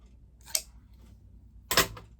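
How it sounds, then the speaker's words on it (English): Two crisp snips of small scallop craft scissors cutting cork fabric, a light one followed by a louder one, in a quiet room. "I'm going to cut it with scallop scissors."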